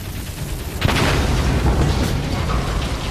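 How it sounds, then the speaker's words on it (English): A grenade explosion in the World War I game Valiant Hearts, a sudden booming blast followed by a sustained rumbling roar and debris. "Let's toss a grenade up there and see what happens."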